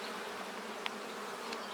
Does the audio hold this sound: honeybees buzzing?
yes